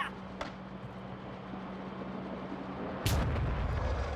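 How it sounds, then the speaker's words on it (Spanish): A drill charge detonates in Warzone, a sudden loud blast with a low rumble that follows a faint earlier pop, amid steady background game noise. "¡Carga de perforación fuera!"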